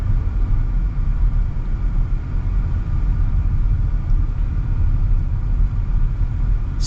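A turbocharged 2025 Hyundai Kona SUV's engine drones as a low, steady rumble from inside the cabin while driving, with road noise running continuously and no voices.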